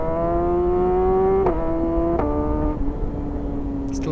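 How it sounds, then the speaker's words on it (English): A BMW HP4 Competition motorcycle pulling away hard from a traffic light, its engine note climbing steeply through three quick upshifts, each marked by a brief dip before the pitch rises again, loud and close with no talk. "And the only way you can pull away from a traffic light is like this."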